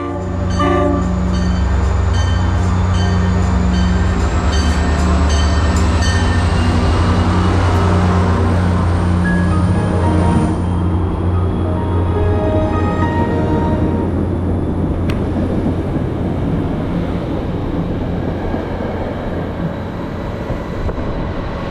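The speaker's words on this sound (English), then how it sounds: "At Merritt 7, train 6862 is seen departing towards Danbury with a Jeep to the face," Train 6862 departing Merritt 7 station toward Danbury, a loud continuous rumble and engine drone close by that gradually fades as it pulls away, with high whine overtones.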